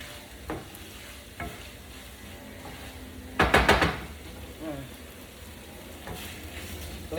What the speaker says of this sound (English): I just want to keep mixing this in until it's like fully coated